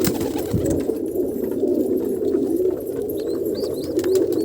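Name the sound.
pigeon chick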